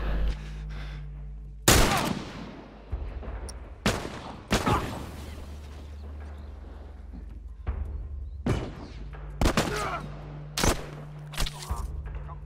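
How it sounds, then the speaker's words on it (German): Gunfire in the video game The Last of Us Remastered: scattered loud single shots and short volleys crack out at irregular intervals over a quiet, low background rumble. "Das war ein guter Schuss."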